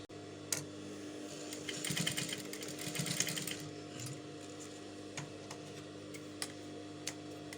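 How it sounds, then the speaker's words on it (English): A sewing machine stitching fabric for a puff-sleeved top hums steadily nearby, its rapid needle ticking louder in a burst early on before settling into a quieter, regular run with occasional clicks. "and you continue your stitch"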